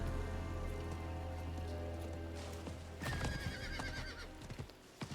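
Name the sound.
horse neighing from the video game Diablo 4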